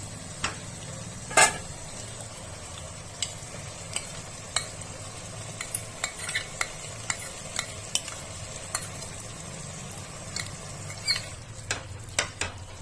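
A spatula stirs curd-and-spice tomato purée into a pan of pea and bottle gourd ghugni, making scattered scraping clicks and knocks over a low, steady sizzle.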